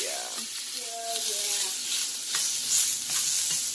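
Shrimp and chorizo paella sizzles loudly in a hot pan while a utensil stirs and scrapes through it, steady frying crackle with occasional clinks, close and without speech.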